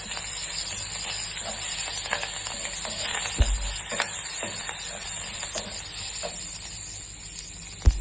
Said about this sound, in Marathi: आता तूप टाकला की त्याच्यात घालायचे ही राई, जिरा, हिंग आणि कढीपत्ता